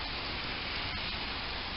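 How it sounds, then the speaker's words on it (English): Heavy rain pours outside on a wet day, an even dense hiss that holds steady throughout with no voices. "Raining like crazy."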